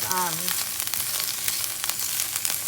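Frozen vegetables sautéing in a pan for fried rice, a loud close sizzle with crackles and stirring. A brief voice-like tone comes at the very start.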